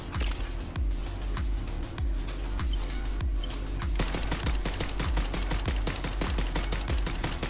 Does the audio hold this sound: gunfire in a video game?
yes